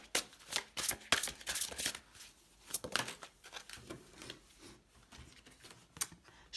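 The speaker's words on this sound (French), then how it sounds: "on va prendre une petite carte de manifestation" Tarot cards shuffled and handled for a manifestation card draw, a run of crisp, rapid riffling bursts and soft papery slides close by, with a little quiet speech in the background.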